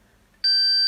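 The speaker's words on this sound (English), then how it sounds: "And if the unit is good and working, it should beep." A continuity tester sounds a single steady high-pitched electronic beep when its probes touch the terminals of a good Alto TS315 tweeter compression driver. The beep starts abruptly after a near-silent moment and holds loud and close.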